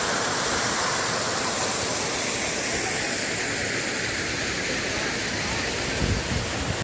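A waterfall about 35 km from Gachibowli, Hyderabad, roars as a loud, dense, continuous rush of falling water, close by, with a brief thump near the end.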